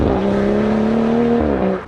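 BMW M135i with a full aftermarket exhaust line revving hard, a loud, steady engine drone held high for nearly two seconds before easing off, heard close and alone.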